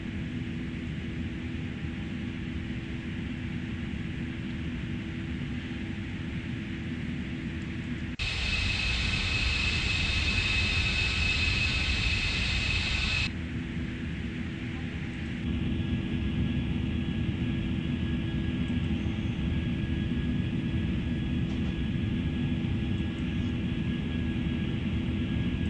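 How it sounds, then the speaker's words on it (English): Simulated airplane takeoff in an air traffic controller game, a steady engine rumble and roar that swells to a louder, brighter whine for several seconds, then settles back to a sustained drone. "Let's enjoy this takeoff."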